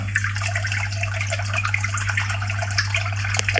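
Water trickles and drips steadily as an air cooler's pump circulates it over the cooling pads, with a low steady hum of the running unit underneath, close and continuous.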